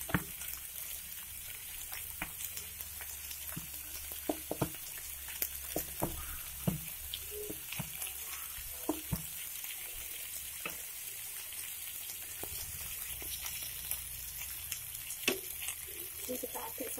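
Pizza sauce sizzles softly in a pan while being stirred, a faint steady hiss broken by repeated scraping and clicking strokes of the utensil.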